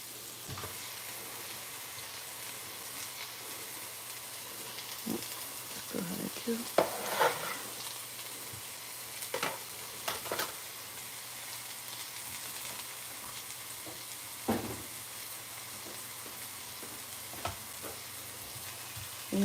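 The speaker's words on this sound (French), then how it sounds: "je vais venir juste mettre mes oignons dans la casserole" Onions frying in a pan alongside fish, a steady quiet sizzle with intermittent stirring scrapes and clicks throughout, no talk.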